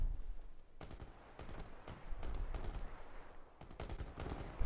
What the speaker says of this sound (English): These guys are shooting at everything.